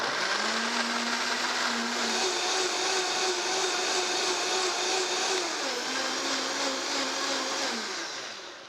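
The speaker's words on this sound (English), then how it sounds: "We're gonna get this all pureed, and then we're gonna add the oil" Blender whirring as it purees ingredients before olive oil goes in, a loud, steady motor whine that shifts pitch midway and winds down at the end, no talking.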